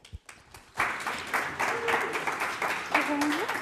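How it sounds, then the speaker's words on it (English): Applause from an event audience welcoming a speaker to the stage, starting after a brief pause and continuing as a steady, moderately loud patter with some voices mixed in. "So round of applause for Sarah, please."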